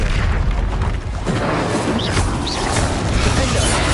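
A fire spell cast in the video game Hogwarts Legacy, a loud, dense roaring burst that runs continuously with booming rumble throughout.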